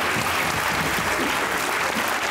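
A studio audience at a Pakistani comedy talk show claps in a loud, dense, continuous wash that runs evenly from start to finish, with no voices over it.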